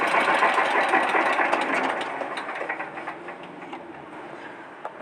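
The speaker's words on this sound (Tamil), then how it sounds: "லைட்டாக ரவ் பண்ணுறேன்." A Mahindra Yuvraj 215 NXT single-cylinder mini tractor engine revs lightly with a rapid chugging beat, close and fairly loud, then eases back and grows quieter.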